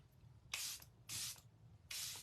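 Makeup setting spray hisses from a pump bottle in three close, short bursts spaced roughly evenly apart, each a soft airy spritz against a quiet room.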